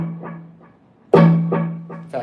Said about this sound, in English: You'll hear just a little bit of echo.